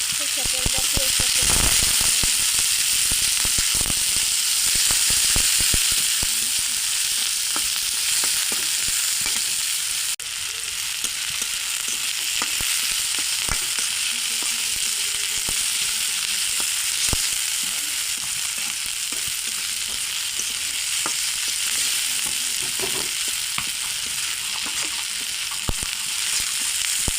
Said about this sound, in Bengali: সরষের তেল দিয়ে পেঁয়াজটা